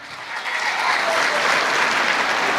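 A concert crowd in Musanze applauds a traditional singer, with dense clapping that swells within half a second and then holds steady and loud, with no voices.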